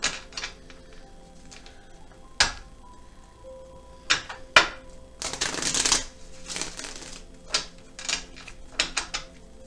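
Tarot cards shuffled and drawn by hand, giving crisp riffles and soft flicks in scattered bursts with a longer shuffle in the middle, close and fairly clear, with no talk.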